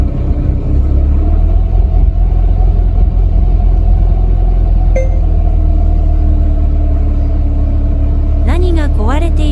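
A Mercedes-Benz 190E W201 with an M102 engine runs with an intermittent starting fault, giving a loud, steady low rumble throughout. A single brief click comes midway, and a voice is heard near the end.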